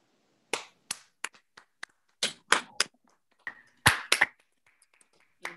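Scattered, sparse hand claps from a church congregation at a women's ministry revival service, a few distinct sharp claps in an irregular rhythm with silent gaps between them.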